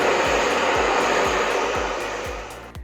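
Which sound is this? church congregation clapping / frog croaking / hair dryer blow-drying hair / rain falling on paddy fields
hair dryer blow-drying hair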